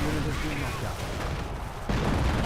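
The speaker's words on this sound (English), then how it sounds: "We got another actual barrage being summoned." Artillery barrage in the Company of Heroes World War II strategy game, heard as a dense, continuous rumble of distant explosions and firing that swells again near the end. The blasts are steady and loud, and a voice talks over them.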